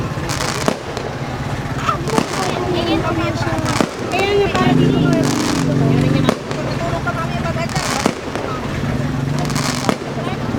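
Repeated loud firework bangs and crackling bursts, close by, while people talk and call out over them.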